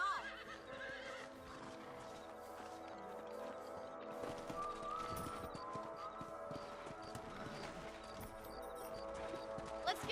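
Horse hooves clip-clop steadily in the Red Dead Redemption video game on PS3, mixed with a whinny and continuous game music and ambience, with no talking.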